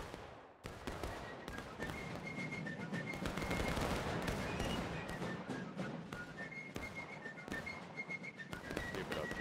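Artillery and musket fire crack and boom again and again on a Civil War battlefield in War of Rights, a dense barrage of sharp reports with a faint whistle running beneath it.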